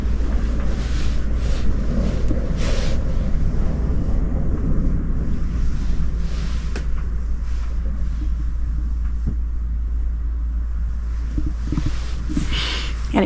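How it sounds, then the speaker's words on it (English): Steady outdoor wind roars and buffets against the microphone, a constant low rumble with gusty bursts throughout and no voices. "It's really, really windy today"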